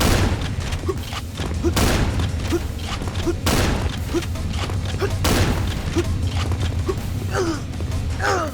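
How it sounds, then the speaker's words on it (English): Gunfire from the horror video game Nocturne in Yellow: repeated loud bursts and booming shots over a droning, creaking game soundtrack, with sharp blasts recurring every second or two throughout. "Kill another eye within Yog-Sothoth's distance, let him swallow you, and shoot the eye again"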